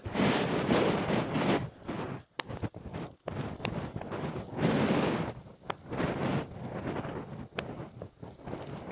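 Strong wind batters a microphone on the Mt Washington Auto Road, loud roaring gusts coming in irregular bursts with brief lulls between them.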